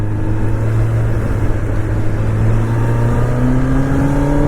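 A 2024 Kawasaki Ninja ZX10R motorcycle engine drones loudly while riding, a steady close hum whose pitch climbs gradually as it accelerates, wind rushing over it, no talk.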